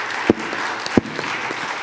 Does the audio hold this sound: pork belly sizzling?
no